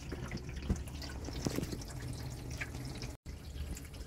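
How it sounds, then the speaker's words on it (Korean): Water trickles and drips inside the trunk of a Kia Forte Koup damaged in a rear-end collision, with scattered soft splashes over a faint steady flow, fairly quiet and close. "물이 생각보다 많이 들어오네요, 그죠?"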